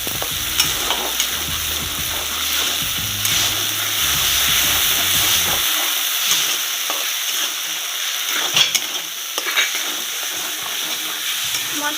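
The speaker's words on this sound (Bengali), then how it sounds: "মশলাটা কষিয়ে নিতে হবে ভালো করে, যতক্ষণ না পাশ থেকে তেল ছাড়ে।" Spice masala for a vegetarian dudh potol curry frying and being stirred in a pan, a steady close sizzle with scraping strokes of the spoon throughout, a low rumble dropping away midway.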